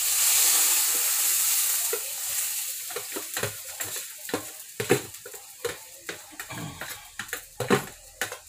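Banana blossom dropped into a hot pan for squid adobo: a loud initial hiss of steam settles into sizzling, followed by a run of irregular scraping and clacking strokes as the mixture is stirred up close.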